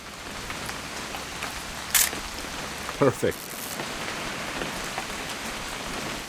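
Steady rain falls throughout a scene in the video game What Remains of Edith Finch, a constant wash of drops on a surface, with a brief spoken word and a few short louder knocks partway through.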